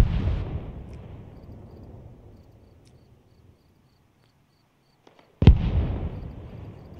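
Distant gunfire in the military game ARMA Reforger, a booming shot that decays into a long rumble and silence, followed by faint pops and then another sudden loud crack with a rolling tail.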